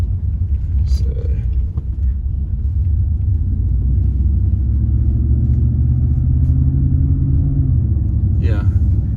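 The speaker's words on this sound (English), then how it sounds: "initial drive with the 93 octane preloaded tune is really impressive" A car running a 93-octane preloaded tune from an SCT X4 tuner drives in sport mode, with a steady, loud low engine and road rumble from inside the cabin and a faint murmur of voices.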